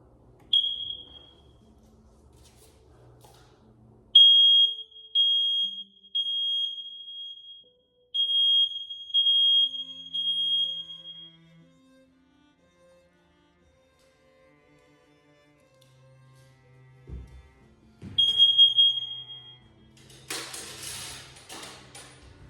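An interconnected apartment smoke detector tested by pressing its button once, sounding sharp repeated high beeps in short series with quiet gaps, followed by a brief rustle and hiss near the end.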